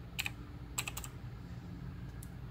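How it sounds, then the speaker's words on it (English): Computer keyboard typing in two short clusters of quick keystrokes with a steady low hum beneath, fairly faint and close, during an SSD installation setup. "I was actually typing that."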